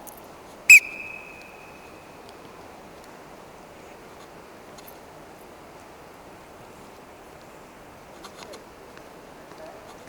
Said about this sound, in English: So on my whistle, we can all start moving around in a fast walk.